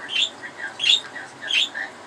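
A pet budgie chirps in short bright bursts, about four clusters of high tweets across two seconds, close and clear with no talk.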